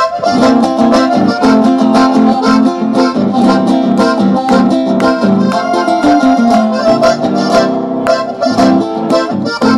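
A live band plays the folk song Amanecer Campero on stage at the Colectividades festival in Rosario, 2014, with loud strummed and plucked rhythmic accompaniment and a driving beat under a bright melodic line that is steady and close throughout.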